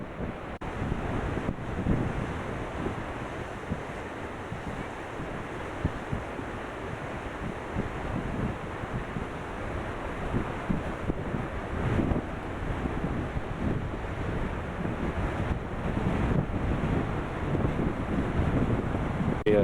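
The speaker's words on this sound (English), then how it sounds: "The waves breaking way offshore." Ocean waves break far offshore at the Cape of Good Hope, a continuous rolling surf wash mixed with heavy wind buffeting the microphone, steady and fairly loud throughout with no voices.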